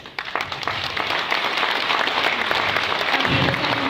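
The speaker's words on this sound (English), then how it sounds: "That's worth an applause." Audience applause fills the room after a presentation at an Oriflame company event, a dense steady wash of many hands clapping that rises quickly and holds loud throughout.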